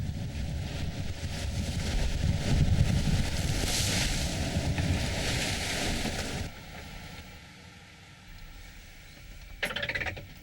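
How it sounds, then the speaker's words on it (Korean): A boat battles rough seas and strong wind in the Beagle Channel. Loud, roaring wind buffets the microphone for about six seconds and waves crash against the hull. It then drops to a quieter rumble before a brief sharp splash near the end. "사나운 파도와 거센 바람의 합동 공세."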